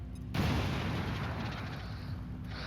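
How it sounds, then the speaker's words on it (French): A grenade goes off in the video game XCOM 2 with a sudden loud burst, then a sustained rumbling roar that fills the rest of the short moment. "Là, on passe par le tour avec la grenade."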